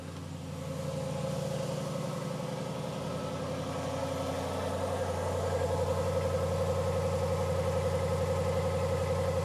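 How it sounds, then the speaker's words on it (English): A 2025 Aston Martin DBX 707 idles, heard from outside the car: a steady, smooth low hum with a throaty tone that settles in after a quiet start and holds alone. "Now let's go listen to the idle from outside the car."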